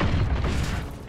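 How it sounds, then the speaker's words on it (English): Deep, rumbling blast of a precision airstrike explosion in the Call of Duty Warzone video game, a loud low boom sustained and slowly fading across the short moment. "Enemy precision airstrike."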